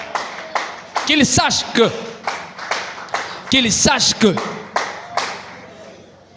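A congregation at a Sunday church service claps in sharp, rhythmic bursts close by while a voice speaks and sings over the hand claps.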